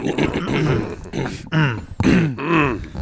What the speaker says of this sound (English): Can you hear me clear my throat?